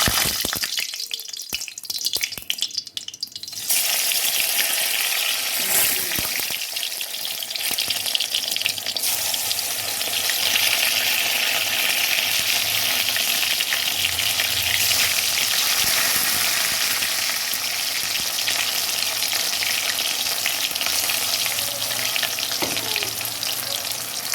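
Pumpkin flower fritters fry in a pan of hot oil, giving a loud, steady hiss and crackle that runs the whole time with no talking. A brief clatter and a drop in the hiss come early on.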